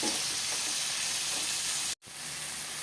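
Garlic, onion, tomato and black beans sauté in a hot pan with a dense, even sizzle that cuts out briefly to silence before resuming, no talking.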